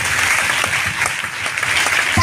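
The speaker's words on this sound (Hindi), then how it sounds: "चलिए गुरु माता पिता के लिए जोरदार ताली" Loud, sustained applause from an audience at a DXN success story event in India, dense clapping filling the whole stretch without a break.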